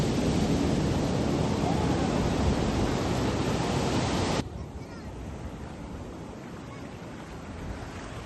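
Waves at a beach give a steady surf wash with wind on the microphone, loud at first and then dropping to a quieter, more distant roar.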